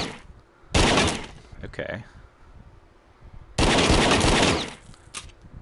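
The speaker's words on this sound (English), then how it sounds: "Step one in any good exorcism, shoot the guy with a revolver a bunch of times" Revolver fire in the PSVR game The Walker, two loud rapid bursts of shots, each lasting about a second, separated by quieter moments with someone talking.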